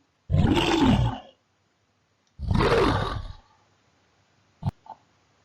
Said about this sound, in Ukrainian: Це ведмідь.